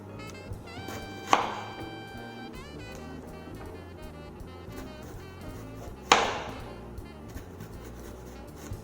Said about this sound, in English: I'm going to cut this nice and thin.